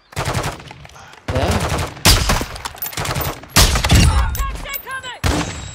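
Gunfire from a Call of Duty zombies match comes in several loud, dense bursts with short gaps between them, and a voice talks over the shots.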